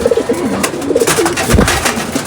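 Male pigeons coo repeatedly in a loft during a pigeon-flying session, soft low throaty calls rising and falling over a constant rustling, noisy background.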